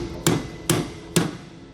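Three sharp metallic hammer blows on a socket, driving a tight suspension bushing out on a 2021 Grand Design Imagine RV during a Dexter heavy-duty suspension upgrade; evenly spaced, close and loud, with no talking.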